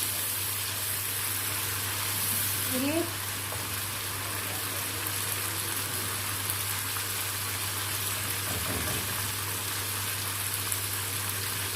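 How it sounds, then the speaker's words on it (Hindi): Garlic and ginger frying in hot oil for a mash daal dish, giving a steady, even sizzle that carries on unbroken throughout with no voices over it. "अब हम इसमें डालेंगे लहसुन अदरक, लहसुन और अदरक को भून लेंगे"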